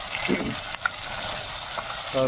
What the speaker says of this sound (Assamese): বিলাহী আগত ফ্ৰাই কৰি ল'ম